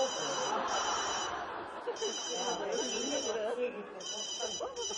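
A mobile phone rings with a repeating electronic melody in bursts, while people talk nearby underneath it.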